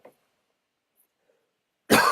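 A single short burst of coughing or throat clearing sounds close and loud at the very end, after nearly two seconds of silence.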